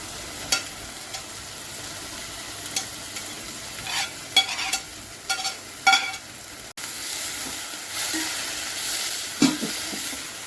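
Fresh coriander fries in hot oil with salt and turmeric. A soft continuous sizzle runs under repeated scraping and clinking strokes of stirring in the pan, louder in short bursts, with no voices.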